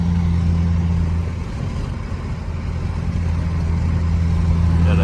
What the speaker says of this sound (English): let me know what you guys think about the exhaust sound